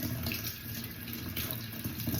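Water runs steadily from a tap, a continuous close splashing rush with no voices.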